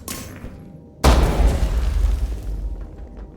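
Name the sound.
grenade explosion in the video game Ready Or Not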